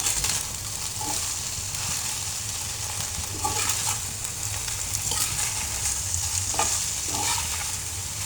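Spiced soybean chunks being stirred in a frying pan, with a steady close sizzle of frying under repeated scraping and stirring strokes of a utensil, no talk.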